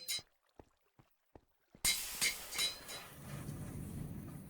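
Several short, sharp metallic taps from a hammer in GregTech modded Minecraft tick out at spaced intervals, then a louder clanking burst with ringing, clinking hits follows and trails into a low hum.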